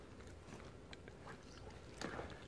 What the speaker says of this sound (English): look at Miss Green chewing up